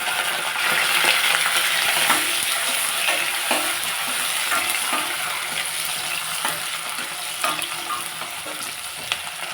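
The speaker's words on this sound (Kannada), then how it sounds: "ಸಾಸಿವೆ ಸಿಡ್ದಿದೆ, ಅದಕ್ಕೆ ಹಾಕ್ತಾಯಿದ್ದೀನಿ." Onion and dry chilli frying in hot oil with spluttering mustard seeds, a dense, continuous sizzle with scattered crackling pops close up, with no talk.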